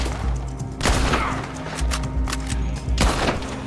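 Gunfire in Red Dead Redemption 2 rings out as several sharp shots with heavy low thumps, spaced irregularly across a busy game soundscape.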